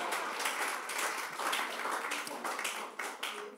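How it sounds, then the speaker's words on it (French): A comedy club launch audience applauds, a fairly faint but dense, continuous patter of many hands clapping at once for a few seconds. "Applaudis-moi encore, s'il vous plaît."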